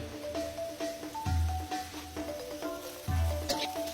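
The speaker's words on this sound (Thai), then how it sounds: "ใส่เส้นลงไปแล้วก็ผัด ผัดให้เข้ากัน" Pork and rice noodles stir-frying in a wok for pad see ew, a continuous close sizzle with rhythmic scraping and tossing strokes recurring every second or so.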